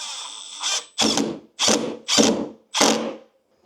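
A power drill drives screws into bi-fold barn door hardware in five short, loud bursts close by, each a whirring spin-up ending abruptly, with brief pauses between them.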